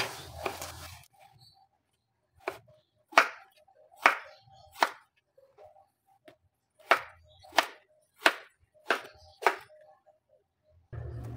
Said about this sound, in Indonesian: Langsung bahannya 1 kg terong ungu dipotong-potong sesuai selera.